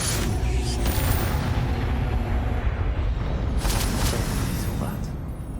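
Repeated spell blasts in Hogwarts Legacy on PS5, a dense run of booming, crackling explosions and bursts filling the scene loudly and continuously with game effects.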